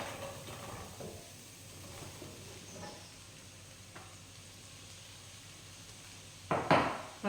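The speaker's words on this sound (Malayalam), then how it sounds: "അതിലാദ്യം നമുക്ക് ചേന മാത്രമായിട്ട് ആദ്യം ഇടാം അതിനുശേഷം ബാക്കി പീസുകൾ എല്ലാം അതിന് മുകളിലേക്ക് ഇട്ട് കൊടുക്കാം" Pieces of yam, then other vegetable pieces, drop into a pot for aviyal, with soft scattered clatters and a sharper burst of pot noise near the end, close and fairly quiet.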